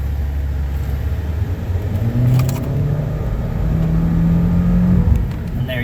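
A Honda car engine revs up after a restart that follows a misfire fault, a loud, close rumble that climbs in pitch in rising pulls and then holds steady, with no one talking.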